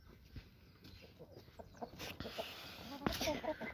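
Brahma chickens and roosters cluck softly at a distance in their pen, several birds making scattered, overlapping calls against a quiet outdoor background.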